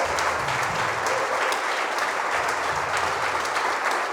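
A church congregation gives a loud, dense, sustained round of applause that fills the space evenly from start to finish.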